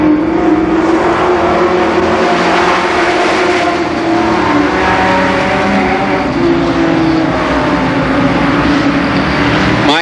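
Race cars roar through a heat race at Columbus Motor Speedway in 1990, a dense, loud, continuous engine drone with overlapping revs from a pack of cars circling the track.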